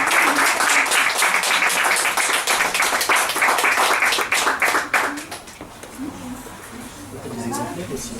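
An audience applauds the actors after a play reading, a dense burst of clapping that fades out after about five seconds, with a few scattered claps as people start talking.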